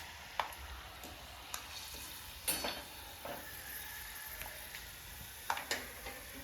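Shahi upvas chivda ingredients fry in hot oil with a steady, dense sizzle, punctuated by occasional sharp clicks and scrapes from stirring, with no voices.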